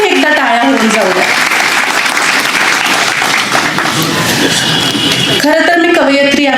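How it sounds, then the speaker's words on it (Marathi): Crowd applause at a public lecture, sustained and dense, with a voice speaking over the start and again as the clapping carries on at the end. "तुमच्या सर्वांसाठी एकदा टाळ्या होऊन जाऊ द्या."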